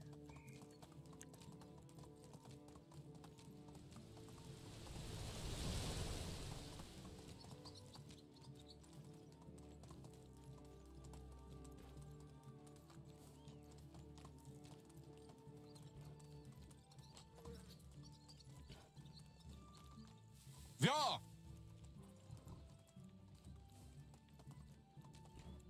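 In the video game Medieval Dynasty, a horse's hooves clip-clop steadily beneath background music, with a brief whinny-like swell early on and a sharp, sudden burst near the end.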